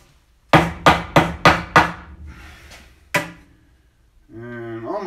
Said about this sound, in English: I just take my hammer, bang it over a little bit